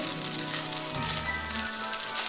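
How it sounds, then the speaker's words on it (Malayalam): Chicken pieces fry in a shallow layer of oil in a pan, giving a steady close sizzle and crackle with some low sustained tones, and no one talking. "ചിക്കൻ നന്നായി ഫ്രൈ ആയിട്ടുണ്ട്"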